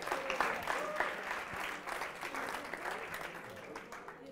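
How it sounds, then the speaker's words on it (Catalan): Studio audience at a televised school quiz show applauding, a steady, fairly faint patter of clapping with a few voices mixed in. "Aplaudiu"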